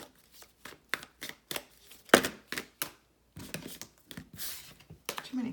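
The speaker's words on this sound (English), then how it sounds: "Too many cards. It is making it difficult with the humidity. Let's do a big shuffle." A deck of tarot cards, damp and sticky from humidity, is shuffled close by in quick irregular riffles and soft slaps, a run of crisp papery bursts with brief gaps.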